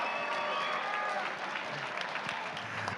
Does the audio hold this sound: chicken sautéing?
no